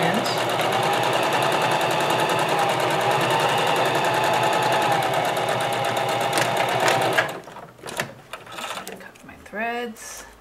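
A sewing machine runs steadily for about seven seconds, stitching a long seam at 5/8 inch with a pivot at the corner, then stops. Short clicks and thread handling follow, and a voice talks over the end.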